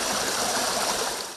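A river reconnected to its floodplain spills water steadily over the banks, a continuous broadband rush and gurgle of flowing water, close and even throughout with no voices.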